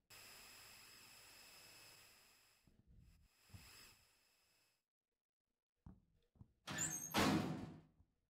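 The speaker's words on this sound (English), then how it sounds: "Holding cell door open." A holding cell door slides open in the horror game Pacify, a short burst of grinding, rushing noise near the end, after a steady hum and a few scattered thumps and creaks.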